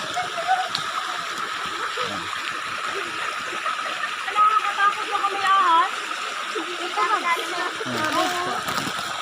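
Steady rushing water pours and splashes nearby, a continuous broadband roar with voices talking intermittently over it.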